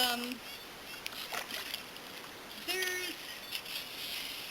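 Quiet splashes and swishes of a canoe paddle moving through shallow water over a sandy bottom, with someone speaking at times over the gentle strokes.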